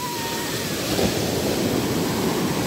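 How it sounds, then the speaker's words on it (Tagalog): Rough ocean waves pound the shore at Sitio Liwliwa beach in San Felipe, Zambales, a loud, continuous roar of surf that swells slightly midway, with wind buffeting the microphone. "talagang nagagalit ang alon ngayong araw na to"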